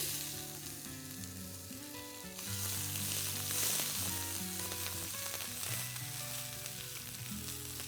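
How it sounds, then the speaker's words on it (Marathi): Mustard seeds, asafoetida, crushed garlic, ginger and chili sizzle in hot oil for a paratha filling, a steady close frying hiss that grows louder partway through, with a tonal music-like drone underneath. "तेल छान गरम झालंय मी मोहरी टाकते थोडा हिंग हे लसूण आलं आणि मिरची क्रश आहे"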